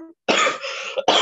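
A person coughs close by, two harsh bursts separated by a brief pause, with a hint of voice just before.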